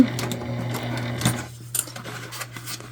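A sewing machine stitches a shoulder bag in a quick, steady whirr for about a second and a half, then stops, leaving only faint handling clicks close by.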